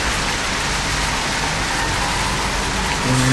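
Heavy rain in the racing video game Driveclub on PS4, a dense, loud, continuous hiss with faint engine tones beneath it.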